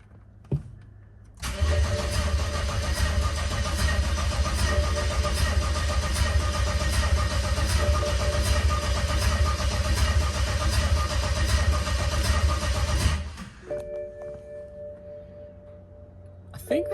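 A BMW N54 engine with forged internals cranks on a weak battery for about twelve seconds, a loud continuous whirring grind that cuts off abruptly, leaving a quieter hum behind.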